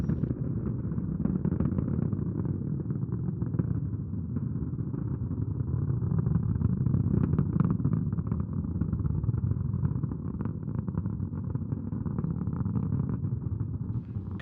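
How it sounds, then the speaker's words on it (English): Proton rocket first-stage engines, six running at once during an ISS module launch, produce a steady, far-off low roar and rumble that holds continuously without pause. "Coming up on the 1 minute mark into the flight. All engines running normally."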